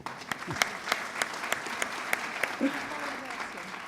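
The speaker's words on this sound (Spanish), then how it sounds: "la recibimos con un aplauso" A small studio audience claps to welcome a guest at a Spanish-language journalism center talk, sparse, distinct claps in a loose rhythm, with a voice briefly speaking over them.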